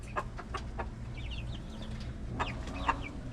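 Several short chicken clucks, close by and fairly quiet, sounding in loose bursts over a low background hum as the chicken is fed grubs.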